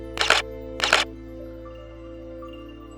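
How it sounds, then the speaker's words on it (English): Two crisp camera shutter clicks, spaced under a second apart, while HDR bracketed shots are taken outdoors at a state park; quiet ambience follows. "I just set up my camera, took a bunch of shots. I'll do an HDR."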